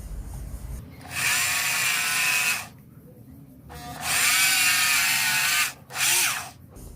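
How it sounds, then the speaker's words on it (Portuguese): A power drill bores a hole halfway through a workpiece in three bursts, two long steady whining runs and a short final one, loud and close with quiet pauses between. "Agora eu vou só furar aqui. Como eu falei, fura até o meio."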